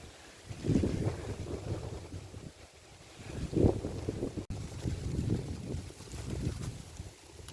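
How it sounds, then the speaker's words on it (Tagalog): Steady gusting wind buffets the microphone in low rumbling surges, swelling loud for a moment and easing off again, with no voices. "Lakas ng hangin."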